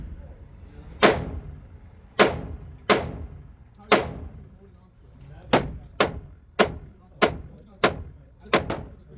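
Ported CZ P-10 C pistol fired at an outdoor range: about a dozen sharp, loud shots, first in a slow spaced series, then a quicker cluster of rapid shots near the end, each followed by a short decay.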